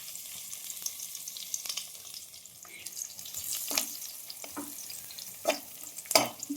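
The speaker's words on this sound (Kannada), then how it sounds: "ಇವಾಗ ಬೆಳ್ಳುಳ್ಳಿನ ಫ್ರೈ ಮಾಡ್ಕೊತೀನಿ" Garlic fries in oil in a pan for masala kadale puri, a quiet steady sizzle with scattered stirring scrapes that grow sharper near the end.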